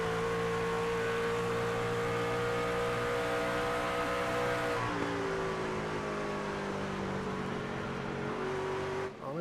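Racing truck engines in the iRacing sim at Homestead-Miami Speedway, a loud, steady droning roar with shifting tones that fades and cuts near the end, with no talk.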